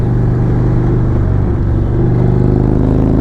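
Indian Chief Vintage motorcycle engine while riding near Derawar Fort in Bahawalpur, a steady loud low-pitched engine drone and wind rush at a constant speed, close up and without pauses.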